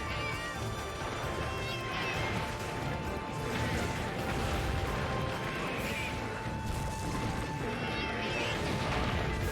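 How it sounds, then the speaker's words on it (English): Cat meows from a prowler character in a video game, repeated over a dense, busy mix of game sound effects and steady background noise. "I heard a lot of meow."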